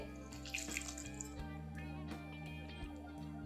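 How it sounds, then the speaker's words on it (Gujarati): Water is poured little by little into flour to knead dough for farali gathiya, a soft, close trickle and splash with brief pauses, quiet and without talk. "હવે આપણે એમાં થોડું થોડું પાણી નાખી અને લોટ બાંધી લઈએ"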